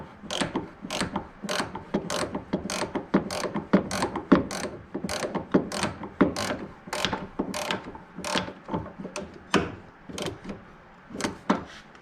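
A hand ratchet cranks down a fitting on a remote Volvo pump being fitted to a depowered steering rack, a close, loud run of regular clicking strokes in steady rhythm with brief pauses between pulls.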